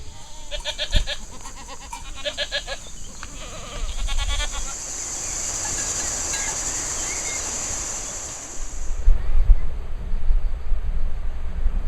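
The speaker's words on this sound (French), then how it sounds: "Vai chercher les chèvres." Goats on a farm bleating in several overlapping calls early on, followed by a long hissing wash of wind or surf-like noise, with low rumbling at the end.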